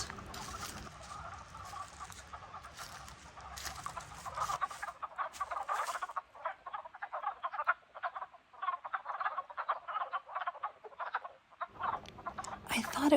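Frogs croak in a rapid, rattling chorus near Laurel Fork Falls on the Foothills Trail, a steady dense pulsing that carries on throughout with a low water rush underneath early on.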